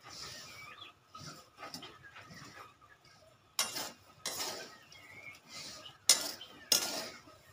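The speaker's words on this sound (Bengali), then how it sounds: "ভাজার সময় ভালো করে নাড়াচাড়া করবে এইভাবে" Peanuts being stirred and fried in a pan in a small home kitchen, with scraping and rattling bursts as a utensil moves the nuts, some sharp and close, separated by quieter pauses.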